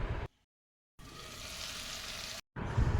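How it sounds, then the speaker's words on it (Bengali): Tomato and onion frying with salt in a pan, a soft steady sizzle broken by two short silent gaps, moderately quiet with occasional stirring. "টমেটোটা আমি হালকা একটু কষে নেব লবণ দিয়ে, যাতে এখানে টমেটোটা গলে যায়।"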